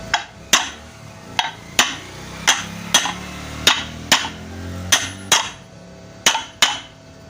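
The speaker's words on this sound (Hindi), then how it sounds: "यह अब हथौड़ी से हम इसको आहिस्ता आहिस्ता ठोकेंगे बराबर।" A hammer gently tapping the front motor plate of a ceiling fan into place, about fourteen sharp metallic knocks at a slow, fairly even pace, close and clear with no talking.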